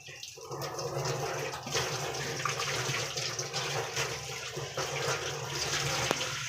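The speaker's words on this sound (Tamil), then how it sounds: "பாதி பாத்திரத்தை இப்போ நான் வந்து உங்களுக்கு கழுவி காமிக்கிறேன்" Brass pooja vessels are washed and scrubbed under running water, with a continuous tap stream and splashing throughout and faint scrubbing clinks at moderate loudness.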